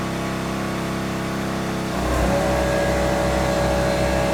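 Nissan 240SX (Kouki) engine idling steadily, then revving up as gas is added, settling into a louder, strong throbbing rumble close by with no talk.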